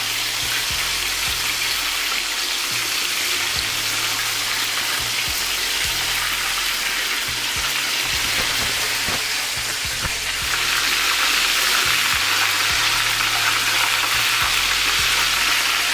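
Chicken pieces deep-frying in hot oil for a first fry, a dense steady sizzle and crackle that stays loud and continuous throughout, with no talking over it.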